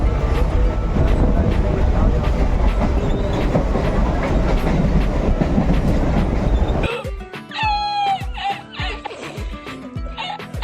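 A train running loud and close at Byculla station in Mumbai, a dense continuous rumble and rattle that cuts off abruptly partway through, followed by station noise, squeals and voices.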